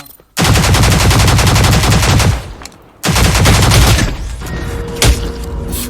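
Video game gunfire in Cyber Hunter comes in two long, dense bursts of rapid automatic shots, loud and close, with a short quiet gap between them and a lighter, scattered tail of shots after the second burst.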